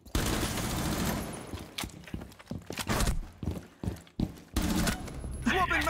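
Gunfire in a shooter video game: rapid sharp shots in clustered bursts, fairly close and loud, with brief gaps between volleys and no speech over them.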